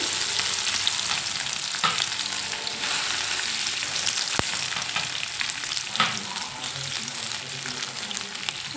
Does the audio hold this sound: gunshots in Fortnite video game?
no